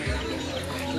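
Young Serama chickens cluck briefly at a bird contest, a short low burst of fowl calls over a busy background murmur.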